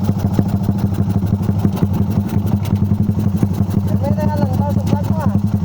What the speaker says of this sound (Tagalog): tatawanan ko muna tong motor ko.